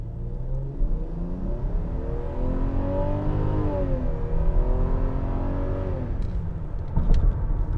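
A 2004 Lexus GS300 with 150K miles accelerates with a smooth, steadily rising engine note heard from inside the cabin, the pitch building and then dipping at a shift before climbing again.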